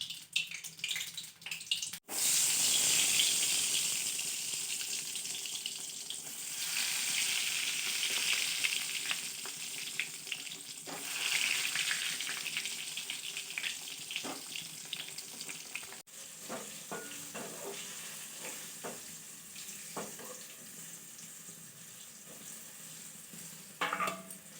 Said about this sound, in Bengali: তো বেগুন পটল ভাজা হয়ে গেল